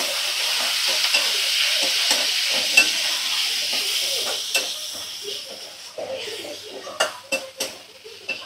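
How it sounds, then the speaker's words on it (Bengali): Potatoes, onion and chili frying and being stirred in a pan: a steady sizzle runs throughout, with a spatula scraping and clinking against the pan in irregular strokes that grow sharper near the end. "এখন দেখো একটু আলু আর পেঁয়াজ লঙ্কা দিয়ে ভাজা করছি।"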